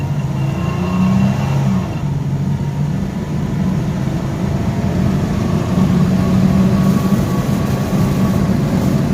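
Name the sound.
Chevrolet S10 4.3 truck engine revving and accelerating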